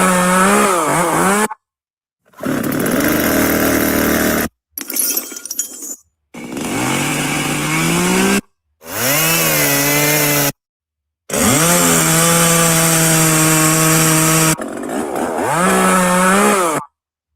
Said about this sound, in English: And then sound of a chainsaw.